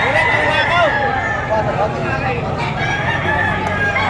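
A black rooster crows at a rainy outdoor livestock market in Padre Garcia, Batangas, its call rising amid constant crowd babble and a seller's voice, with several overlapping crows across the few seconds.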